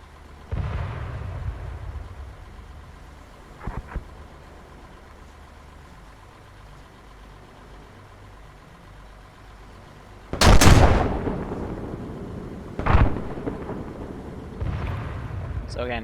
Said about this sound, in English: They're going to have some shells land right in front of them in a bit, though.